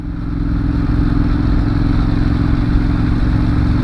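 A motorcycle engine drones loud and steady on an early morning ride, a constant low throb with mechanical clatter and wind noise and no talking.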